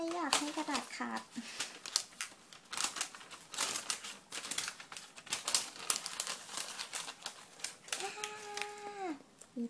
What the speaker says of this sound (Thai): ไม่อยากให้กระดาษขาด